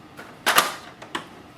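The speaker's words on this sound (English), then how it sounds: "Close this door" The front door of an HP DeskJet 2955 printer is pushed shut: a sharp plastic clack with a quick rattle, then a softer click about half a second later, close and otherwise quiet.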